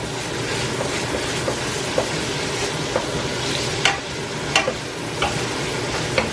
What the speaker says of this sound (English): And we're just going to stir this on in.